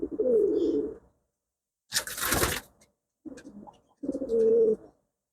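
Female pigeons coo close by in several separate throaty bursts with short pauses between them, and a brief rustling flutter sounds among the calls.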